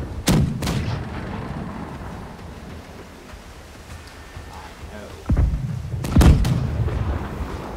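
Cannons fire from a ship in the pirate naval video game Blackwake, with booming blasts early on and again near the end, the later ones in a quick close cluster over a steady rumble of sea and wind.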